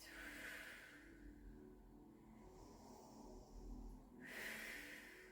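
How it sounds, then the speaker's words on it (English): Slow, soft exhalations through the mouth during a Pilates stretch, two gentle breathy rushes at the start and end, separated by a quieter in-breath, close and without speech. "and out through the mouth"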